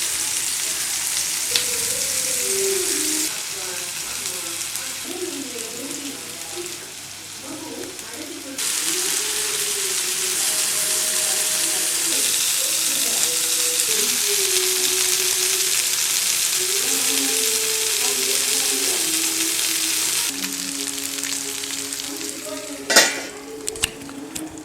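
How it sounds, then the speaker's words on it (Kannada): Chicken slow-frying in a pan gives a steady, even sizzle throughout, while people talk over it and a few clatters of utensils sound near the end. "ಈಗ ಸ್ಲೋ ಕುಕ್ಕಿಂಗ್ ಚಂದ ಫ್ರೈ ಆಗ್ತಾ ಇರ್ತದೆ"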